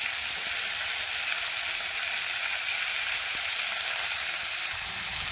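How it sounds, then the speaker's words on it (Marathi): Tomatoes and coriander fry in a pan for a village-style chicken curry, a loud, close, continuous sizzle that stays steady throughout without a break, with no talking. "त्यानंतर टोमॅटो पण आपण याच्यामध्ये फ्राय करून घेऊया आणि थोडीशी कोथिंबीरही टाकून घेऊया"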